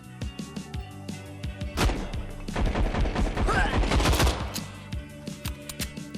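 Gunfire in the VR game Better Than Dead: sharp single shots and a dense burst of rapid fire with glass breaking, loud and close, followed by further scattered shots.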